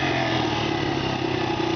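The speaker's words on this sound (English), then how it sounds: "Really screaming the engine." A Honda XR80 motorcycle engine revs hard in first gear during a slow wheelie, a loud, steady, close high-pitched scream that holds throughout with no talking.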